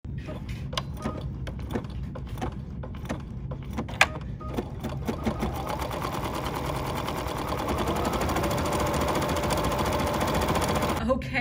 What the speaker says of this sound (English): let the machine stitch out that outline